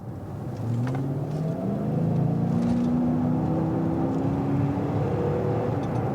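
A Dodge Charger Pursuit V8 revs up from idle, its deep engine note climbing and holding in a smooth, loud, close rumble that rises gradually over several seconds, with no talk.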